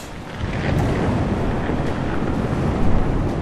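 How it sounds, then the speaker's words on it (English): Wind at sea in the Mount and Blade II Bannerlord video game, a steady, loud, full rushing roar with a low rumble underneath and no talk. "We have a little bit of wind"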